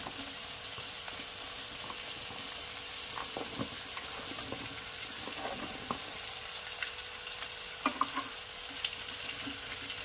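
Cut, washed raw pumpkin pieces fry in a pan over a lowered gas flame, giving a steady close sizzle broken by scraping, clicking stirs.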